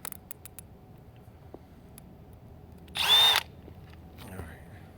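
A Milwaukee M12 Fuel Gen 2 hammer drill with a 1-inch spade bit gives one short, loud whirring burst of roughly a third of a second midway, surrounded by quiet room tone and a few clicks.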